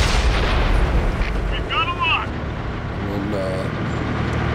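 A heavy, booming tank cannon shot in World of Tanks on PS4 opens the moment and rolls into a low rumble, followed by a steady vehicle drone and a few brief electronic chirps.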